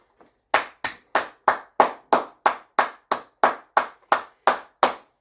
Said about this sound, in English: You may want to know why I'm clapping.